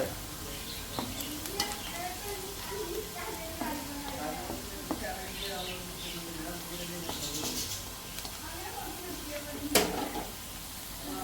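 Garnish for egg biryani fries in a pan until brown and crisp, giving a steady sizzle with occasional stirring scrapes and a sharp clink, while a person talks over it.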